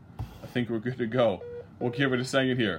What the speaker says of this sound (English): You can hear the beeping in the background.